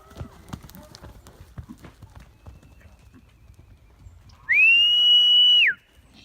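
Horses on a farm clop their hooves in a faint, uneven rhythm, then a loud, sustained whistle cuts in near the end and holds for about a second.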